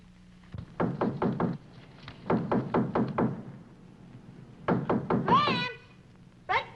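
Knocking on the front door of a house, heard as two close, loud bursts of four to five rapid raps each, then a third burst, with a brief meow-like cry and a short voice near the end.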